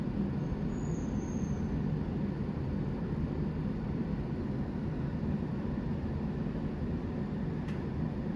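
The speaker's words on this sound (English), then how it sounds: "Oh, look, there's the eastbound train now." An eastbound subway train rumbles steadily at a distance in Toronto, a continuous low roar with faint rail noise and no voices throughout.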